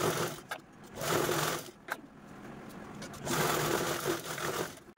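A sewing machine stitches down both side edges of a fabric piece made from a leftover gown, its motor running in steady bursts with brief pauses between seams.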